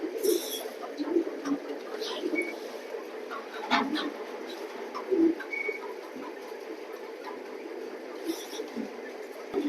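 Pigeons at a pigeon loft coo softly in low repeated calls, with a few brief sharper bird calls and wing or cage noises scattered over a quiet background.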